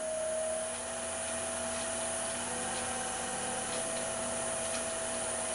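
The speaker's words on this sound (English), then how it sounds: "I'll be using this beading parting tool to remove some of the wood to make the tenon" A wood lathe spins a bowl blank while a beading parting tool cuts a tenon, giving a steady close hum and hiss with a faint scraping texture throughout.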